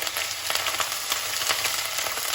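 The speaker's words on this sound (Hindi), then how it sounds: "इसमें ऐड करेंगे हम अदरक और लहसुन, इसको अच्छे से भून लेंगे। तेल गरम है इसलिए जल्दी से भून जाएगा।" Ginger and garlic fry in hot oil for a Punjabi-style cauliflower, carrot and turnip pickle, a dense close sizzle with rapid crackling pops throughout.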